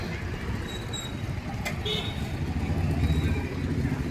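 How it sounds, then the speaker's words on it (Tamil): Steady traffic rumble from buses, cars and motorbikes at Sriperumbudur bus station, with a continuous engine drone and a faint high horn or whine, while someone speaks over it. "இது ஸ்ரீபெரும்புத்தூர் பேருந்து நிலையம்."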